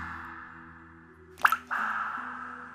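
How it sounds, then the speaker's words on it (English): Blood drips from somewhere above in a horror scene: a single close, wet plop stands out over a low, eerie droning background. "Blood began to drip from somewhere above, the soft patter adding to the cacophony of terror around her."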